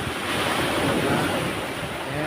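Ocean waves wash steadily onto a beach, a continuous broadband surf roar mixed with wind buffeting the microphone, with no voices.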